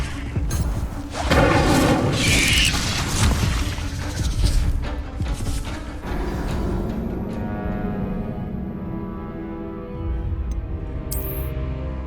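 Incendio fire spells cast in Hogwarts Legacy: a burst of loud whooshing, crackling blasts for the first several seconds, then fading into a lower rumbling tail with a faint high ring near the end.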